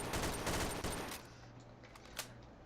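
Gunfire in Garry's Mod DarkRP: a dense burst of rapid shots fills the first second or so, then fades into quieter background noise with one brief sharp crack near the end, no talking.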